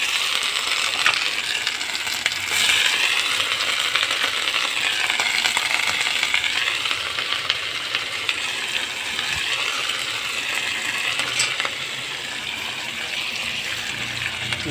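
Okra (bhindi) fries in hot oil with a dense, continuous crackling sizzle, close and steady, and occasional sharp stirring clicks from the pan.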